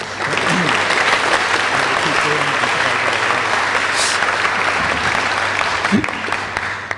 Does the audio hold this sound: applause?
yes